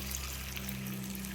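Boiled red lentils with pumpkin, papaya and radish are poured into a cooking pot, giving a steady, close liquid pouring and trickling sound that runs unbroken throughout.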